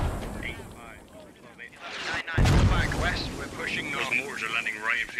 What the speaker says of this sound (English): a mortar just lands right next to him